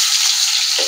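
Sliced onions hit hot oil in a pan of frying okra, giving a loud, dense, continuous sizzle close to the microphone, with a slight shift in tone near the end as the onions settle.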